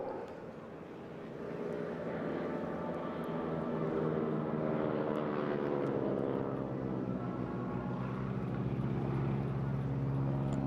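At the Eastbourne airshow, the AeroSuperBatics Wingwalkers biplane passes with a steady propeller drone that grows louder and settles into a throaty, sustained engine note.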